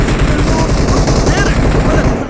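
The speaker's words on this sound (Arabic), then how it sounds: "اوكي رشاش ابو 100 طلقه" Machine gun fire from a 100-round gun in the game PUBG Lite, a loud dense stream of rapid shots with no pauses, close and continuous over a busy game soundscape.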